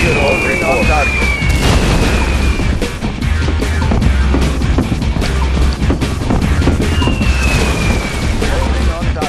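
Booming bomb explosions in the real-time strategy game Yuri's Revenge, dense rumbling blasts piling on top of each other at high volume, with radio-style unit voices and whistling sweeps over the din.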